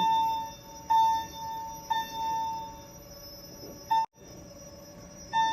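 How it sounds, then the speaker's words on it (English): A continuous high electronic alarm tone sounds steadily, interrupted by several brief clicks or thumps, with quiet room noise beneath. "this fire alarm going off again is driving me crazy"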